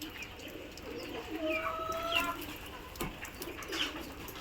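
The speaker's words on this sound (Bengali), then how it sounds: "কবুতরগুলো ছেড়ে দেওয়া হয়েছে।" Pigeons cooing softly at a farm during rainy weather after being let out of their coop, a low, steady murmur of calls with a few brief chirps in the background.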